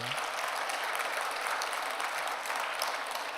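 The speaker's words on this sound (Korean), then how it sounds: "우리 청년들, 우리 한번 뜨겁게 한번 박수해 주시고" A church congregation of young people claps warmly after a sermon, sustained dense applause filling the whole moment at steady loudness, no voices rising above it.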